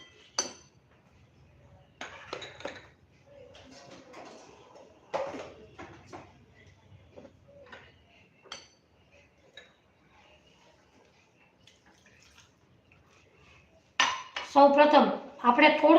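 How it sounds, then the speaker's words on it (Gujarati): Wheat flour, semolina and milk are mixed in a bowl for malpua batter. A spoon clinks and scrapes against the bowl in scattered taps, then a louder rapid burst of clattering comes at the end. "હવે આપણે થોડું દૂધ નાખી અને મિક્સ કરી લેશું."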